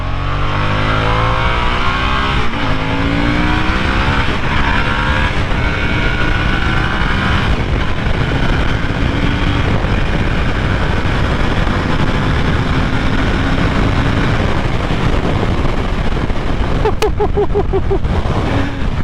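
A 2021 Harley Davidson Sportster S accelerates hard in road mode, its engine loud and close, revving up through rising pitch sweeps and gear changes over continuous wind buffeting.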